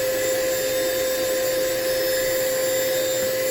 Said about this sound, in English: Now we have to have a bit of vacuuming